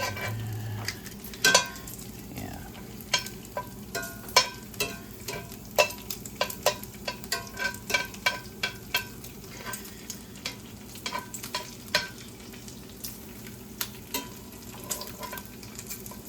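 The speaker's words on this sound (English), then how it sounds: "We'll just keep kind of flipping it around a little bit when we can, just to make sure it's cooking kind of evenly all around on both sides" Guanciale frying and sizzling in a pan at a home stove for carbonara, a steady low sizzle punctuated by frequent sharp clicks and taps as the pieces are flipped and stirred, with no talking.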